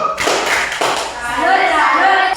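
Classroom group doing a rhythmic salute clapping routine, a few sharp claps and thumps in quick pattern, close and loud, mixed with voices chanting along.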